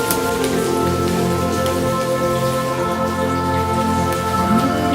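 A heavy downpour of rain mixed with hail pours steadily and continuously for the whole stretch, with a dense close hiss and a sustained tonal layer running underneath.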